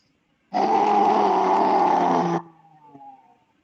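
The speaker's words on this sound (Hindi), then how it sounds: "लंबा गहरा सांस लेंगे, जीभ को बाहर निकाले, कंठ से आवाज निकालेंगे" A person doing yoga lion breath pushes out one long, loud, rasping exhalation from the throat with the tongue out, a growl-like roar lasting about two seconds, then fading into quieter breathy sounds.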